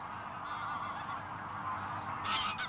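Wild geese honking at Lake Ichkeul, a wintering lake with surrounding marshes, heard as a continuous massed flock chorus at moderate distance, with a brief louder burst of calls near the end.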